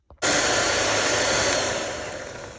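An electric mixer starts with a click and whirs steadily while mixing black walnut cake batter, a loud, even motor hum close by that slowly softens toward the end.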